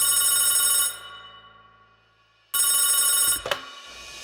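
A telephone rings as a sound effect, two bright electronic trills separated by a brief silence, loud and close with nothing else heard.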